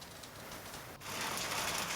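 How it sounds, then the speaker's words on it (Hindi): Unseasonal rain mixed with hail pouring down over farmland, a dense, steady hiss that swells louder halfway through. "बारिश और बारिश के साथ ओले, और यही बढ़ा रहे हैं किसानों की परेशानी।"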